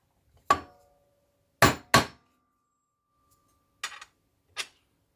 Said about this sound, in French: on va frapper le numéro de série